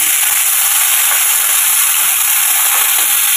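Diced potatoes sizzle steadily in hot oil in a pan while chire polao is being made, a continuous close bright frying hiss with no talk.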